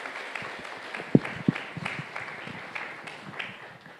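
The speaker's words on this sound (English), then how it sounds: "Can we give a round of applause for our panelists?" An audience at a clinical research and engagement conference applauds its panelists: a soft, steady patter of clapping with a couple of sharper individual claps standing out near the middle.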